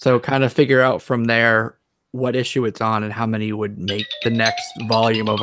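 An incoming call's phone ringtone plays as a short electronic melody of rising tones near the end, partly under a man's ongoing conversation.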